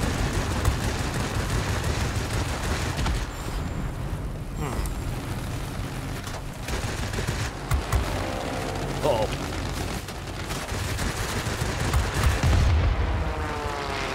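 Rapid bursts of aircraft cannon fire in World of Warplanes 2.0, booming over a dense mix of engine roar and battle noise, with a voice talking throughout.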